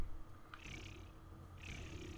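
Faint, low purring rumble from a leopard in Far Cry 3 Blood Dragon, with two brief breathy rasps standing out over a quiet background.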